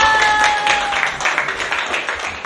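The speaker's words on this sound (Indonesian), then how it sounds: "tepuk tangan." Applause in a school classroom during a grade 7 Indonesian-language lesson, a short burst of students clapping together, fairly loud and steady with some murmur mixed in.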